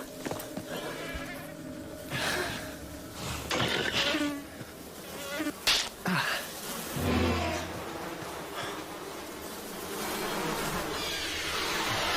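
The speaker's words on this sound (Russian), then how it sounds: "кто это, мухи, комары?" Insects buzz and whine in a TV drama scene, several passes of flies or mosquitoes rising and fading close by, mixed with sparse dialogue and effects.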